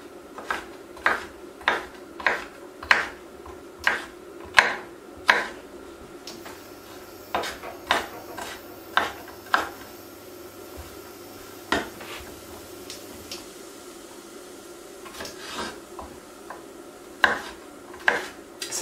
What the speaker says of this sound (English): we're just going to chop this pepper up into nice small pieces and add it into the pan with that onion.